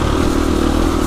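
A Husqvarna two-stroke enduro motorcycle engine gets a quick rev while coasting downhill, a short, close, loud burst of engine roar with a clattery edge.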